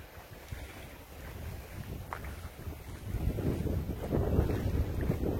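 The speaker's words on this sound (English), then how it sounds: "it's so windy out here and cold" Strong wind buffets the microphone in a low, rushing roar that builds louder toward the end, with faint surf underneath.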